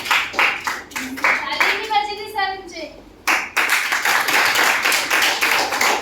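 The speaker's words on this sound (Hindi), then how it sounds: "ताली बजा दो इस बच्चे के लिए।" Classroom clapping for a child who answered correctly, several bursts of hand claps from a group, interrupted briefly by a voice, then resuming as a fuller patter of applause.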